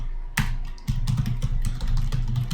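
Rapid keystrokes on a computer keyboard while a pip install command for Python's pandas library is typed, a steady close run of clicky taps with brief pauses, no talking.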